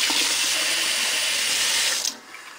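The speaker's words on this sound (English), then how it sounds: "I'm going to fill it up with hot water this time" Hot water gushes steadily from a tap into an empty metal can, a loud, close, continuous splashing rush that cuts off abruptly near the end, leaving a faint drip and quiet room.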